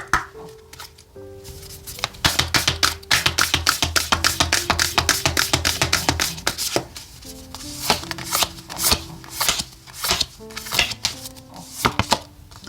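Oracle tarot cards shuffled by hand, close and loud: a rapid rattling run of card flicks, then slower bursts of riffling and taps, with no one speaking.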